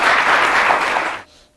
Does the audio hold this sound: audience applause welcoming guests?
yes